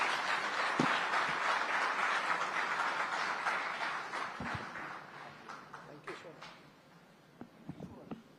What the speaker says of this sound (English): please give him a very big hand